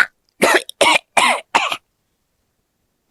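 Four harsh, forceful coughs in quick succession from one person, close and loud, in a basic life support demonstration of a partial airway obstruction, then silence.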